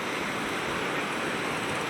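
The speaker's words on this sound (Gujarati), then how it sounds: "પાણી કેટલું હલ્યું જાય છે" The Sukh Bhadar river runs swollen after heavy rain, its rushing current making a steady, loud broadband roar throughout.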